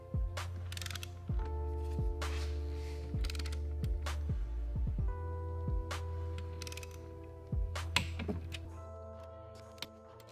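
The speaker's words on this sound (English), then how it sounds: "We're gonna start off by torquing the inside ones to 27 foot-pounds." A torque wrench tightens engine main bearing bolts during a car engine rebuild, giving a series of sharp mechanical clicks and ratcheting ticks over a steady low hum. The sound is close and quiet, with no speech.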